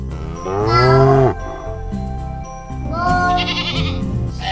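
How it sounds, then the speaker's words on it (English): A cow moos twice, loud and close: a long, low, drawn-out call and then a second, slightly shorter one, with no talk. "Cow"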